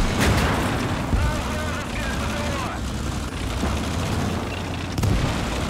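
Heavy booms of a tank cannon in the Gates of Hell game, with a high-explosive shell fired amid dense battle noise, several sharp blasts over a constant rumbling din.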